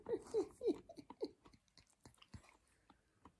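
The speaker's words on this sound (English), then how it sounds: "She started chewing her cud and Indy started licking" A month-old calf chewing its cud up close, with soft rhythmic crunching and munching in quick bursts at first, then sparser wet chews and faint breathing in a quiet setting.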